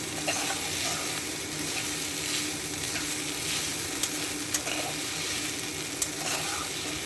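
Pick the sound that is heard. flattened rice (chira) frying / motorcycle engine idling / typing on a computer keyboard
flattened rice (chira) frying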